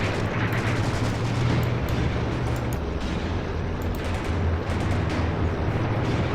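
Sustained heavy gunfire and artillery in Graviteam Tactics: Mius-Front, troops shooting at an anti-tank gun, a dense continuous rumble of shots and booms with low-end roar throughout, loud and close.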